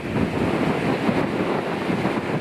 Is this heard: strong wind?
yes